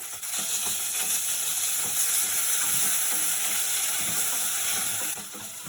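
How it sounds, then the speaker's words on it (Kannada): Chopped onions, ginger and garlic fry in a pan for a home-made biryani, a loud, steady sizzle that runs unbroken for several seconds with occasional stirring scrapes and no voices. "ಈ ಈರುಳ್ಳಿ ಏನೈತಲ್ಲ ಫುಲ್ಲು ಫ್ರೈ ಆಗಬೇಕು"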